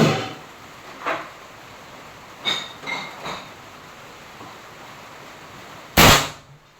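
Three gunshots fired at a target in the rain ring out as separate sharp cracks spread over several seconds, the last one loudest and closest, with no voices alongside.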